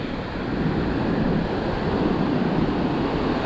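Surf rolls in continuously on an empty, windswept beach on Australia's east coast, a steady broadband wash of breaking ocean waves with gusty wind noise on the microphone, close and fairly loud with no voices.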